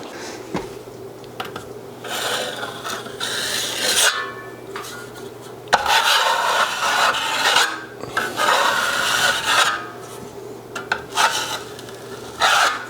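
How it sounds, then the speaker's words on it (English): A drywall float rasps steadily over joint compound while smoothing a patched hole, giving a continuous close scraping with rhythmic strokes and brief pauses between passes, alone without speech. "with the float, it just goes right over, smooths everything at once"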